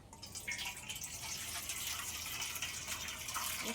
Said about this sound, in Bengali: এবারে আমি এই ছাঁকনিতে ছেঁকে নেব